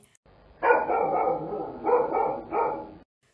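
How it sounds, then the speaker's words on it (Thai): Several dogs bark fiercely near a house fence, a close burst of loud barking that runs for over a second, then two shorter barks follow before the sound stops abruptly. "หมาพากันเห่าด้วยท่าทางดุร้าย"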